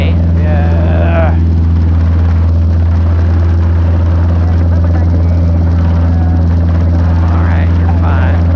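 Robinson R22 helicopter hovering during a flight lesson, its loud steady rotor and engine drone continuous throughout, with brief intercom voices audible over the constant whirr.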